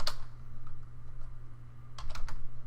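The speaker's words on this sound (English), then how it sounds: "maybe I'll just type in 2." Computer keyboard being typed on while coding JavaScript: a single tap at the start, then a quick burst of three or four close, crisp keystrokes near the end over a low steady hum.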